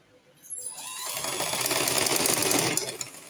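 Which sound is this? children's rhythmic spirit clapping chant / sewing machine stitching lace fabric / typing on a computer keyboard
sewing machine stitching lace fabric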